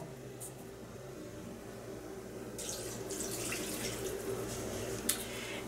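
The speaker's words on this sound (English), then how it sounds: "So now we're going to add in our 2 cans of beef broth." Canned beef broth is poured into a crock pot, starting as a faint liquid splash partway through and continuing as a soft, steady pour in a quiet kitchen, ending with a small clink.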